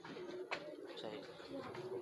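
High-flyer pigeon with purple feet giving soft low coos, faint and close, with a brief click partway through.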